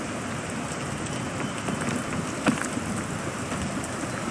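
Steady rain in the video game Peak, a dense continuous hiss of drops falling on surfaces, moderately loud and unbroken with no voices, one brief louder patter partway through.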